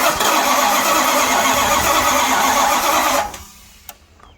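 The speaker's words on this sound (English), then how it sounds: "let's just see if it'll crank" A Mopar 440 V8 in a motorhome cranks over steadily on the starter for about three seconds without firing, loud and close, then cuts off into near quiet with a faint click.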